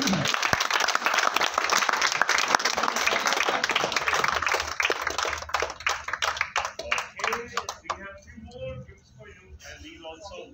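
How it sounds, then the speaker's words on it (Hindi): A training-event audience gives a standing ovation: loud, dense applause from many hands that thins and fades out toward the end as voices begin to talk. "Great standing ovation for him."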